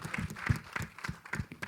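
An audience at the Dream Girl film trailer launch event applauds for actor Annu Kapoor. The clapping is moderately quiet, rhythmic and steady, with pulses at even intervals.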